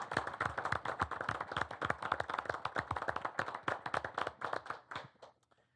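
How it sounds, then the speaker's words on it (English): A small group at a county board of education business meeting claps in a sparse, distinct rhythm of individual hand claps, fairly close, then tapers off and stops near the end. "Another round of applause, please."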